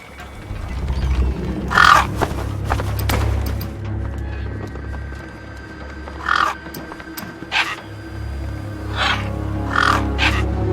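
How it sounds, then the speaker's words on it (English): Scavenger gang birds caw in a desolate wasteland in the video game Beyond A Steel Sky, several harsh calls spaced over a low rumbling ambient bed, some near and some farther off. "Then, I heard them. Gang birds, scavengers"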